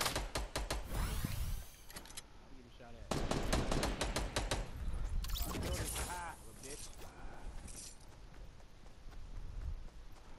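Fortnite gunfire crackles in repeated rapid bursts of automatic shots, loud and near, separated by short pauses and mixed with game movement sounds and occasional voice.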